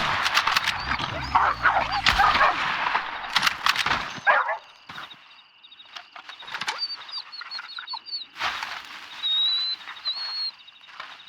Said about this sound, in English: Here, puppies. Oh, we got 4 of them today.